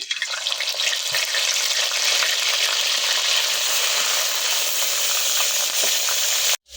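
Onion paste frying in oil in a kadai over a clay stove, a loud, close, continuous sizzle with stirring, cutting off abruptly near the end.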